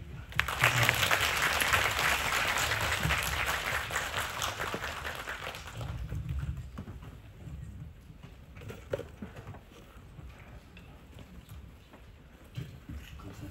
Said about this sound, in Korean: 오늘 귀중한 이야기 들려주신 임지영 배우님, 조연출 감독님께 박수 부탁드립니다.